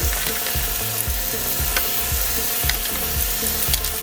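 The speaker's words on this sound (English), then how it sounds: "I'm going to go ahead and add them in, and you guys can hear the sizzling" Turkey meatballs sizzle steadily in a hot frying pan, a dense, continuous crackle with a soft rhythmic low thumping underneath, close and fairly loud with no voices.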